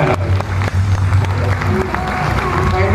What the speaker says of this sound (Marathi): हात वर करून जोरदार टाळ्या व्हायला